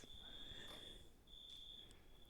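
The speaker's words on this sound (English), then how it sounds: "Crickets. Crickets." Crickets chirping as a sound effect, a faint, steady high trill that breaks off once and resumes, over a quiet background.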